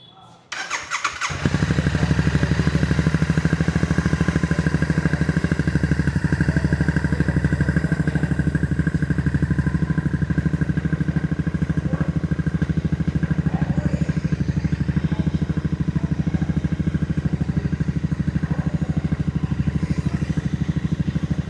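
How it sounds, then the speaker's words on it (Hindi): A 2026 Royal Enfield Continental GT 650 with a 647 cc twin engine starts, then settles into a steady, close, rhythmic exhaust idle burble that stays even with no revving. "तो चलिए सुनते हैं 2026 कॉन्टिनेंटल GT की एग्जॉस्ट साउंड को।"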